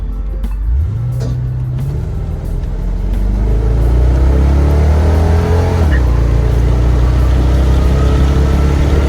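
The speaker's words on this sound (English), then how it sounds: "Let me see if I can give y'all a quick acceleration right quick." A 1996 Chevrolet Impala SS with an aftermarket catback exhaust accelerates hard, its deep engine note rising through the revs, easing off, then pulling again, loud and close.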